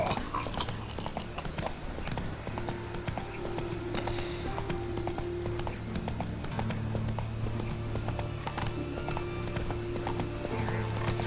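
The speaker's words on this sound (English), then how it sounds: "How did you even get there, Roach? Don't trample the guy." A horse trots in The Witcher 3, its hooves clip-clopping in a steady, continuous rhythm throughout, with a faint tonal game soundtrack underneath.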